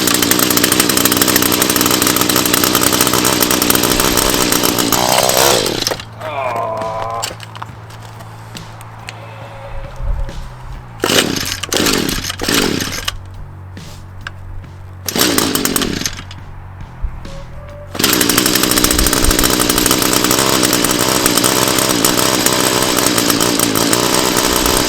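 Echo SRM 210 two-stroke string trimmer engine roaring loudly at high revs, dropping to a rough idle for several seconds with brief revs, then returning to full throttle; a choke adjustment is under way.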